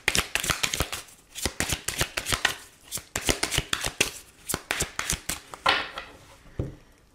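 Oracle cards being shuffled by hand: rapid, crisp riffles and slaps come in quick bursts and short runs, close and clear, with brief pauses between handfuls and no talking.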